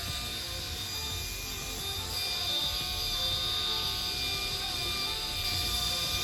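A Duvolle Radiance spin-care facial brush spinning: a steady, fairly quiet whirring motor hum with a faint mechanical rattle, continuous and close, with no talk.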